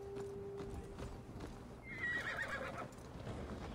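Rhythmic clip-clop of a horse's hooves at a fast gait with a whinny partway through, game sounds faint in the background, from the video game Assassin's Creed Valhalla.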